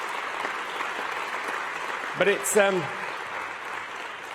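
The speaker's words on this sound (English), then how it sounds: "I think we can give them a round of applause, please, for our host today." Audience applause at an F1 in Schools world finals opening ceremony in Singapore, broad clapping throughout with a brief spoken voice breaking in partway.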